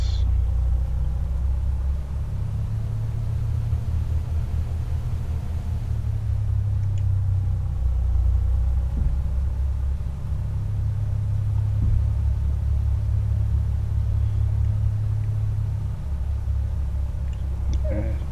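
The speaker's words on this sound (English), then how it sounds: "I'm just going to taxi out." A Piper Comanche 250 piston engine idling while taxiing in the A2A flight simulator gives a steady, loud low rumble throughout with little change in pitch.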